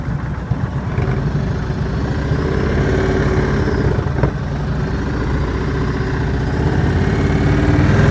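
A motorcycle engine idling and pulling at low revs during slow-speed riding practice with heavy clutch and brake work, a loud close continuous rumble that swells slightly toward the end.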